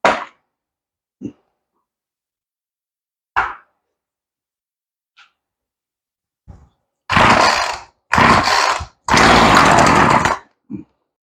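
An old chainsaw that sat unused for a long time gets pull-started on the floor: several short sharp cord yanks, then a few longer raspy sputtering bursts as the engine nearly catches but dies.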